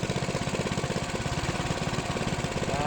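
A 224cc small engine idles at about 1850 rpm close up, a loud, even chugging pulse with rapid regular firing beats and no voices.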